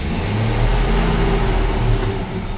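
A warmed-up 1960 Chevrolet Apache 10 pickup with original miles idles and is given throttle. Its engine rumbles close and loud, swelling slightly and then settling, with no voices over it.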